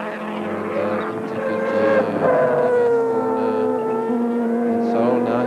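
Modified race cars on the Kyalami circuit scream past at full throttle, with layered, rising and falling engine notes of several cars close by under a commentator's voice.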